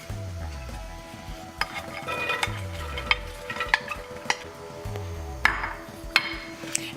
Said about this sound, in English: So I'm going to start by sauteing my onions